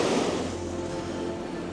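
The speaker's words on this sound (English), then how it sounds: "this is quite a deep lock, so that's lots of water coming out" Water rushes out as a deep canal lock is emptied, a loud, dense, steady roar that eases only slightly over the short stretch, with no talking.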